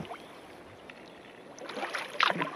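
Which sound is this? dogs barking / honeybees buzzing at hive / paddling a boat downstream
paddling a boat downstream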